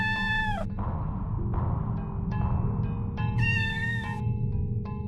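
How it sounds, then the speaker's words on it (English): A cat meowing in the video game OFF, several drawn-out meows and shorter mews in a row, clear and fairly close over a low droning game ambience. "Was that a meow I heard?"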